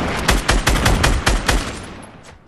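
Rapid video-game gunfire in a tight automatic burst of about eight loud, close shots in steady rhythm, with the final shot trailing off into a fading echo.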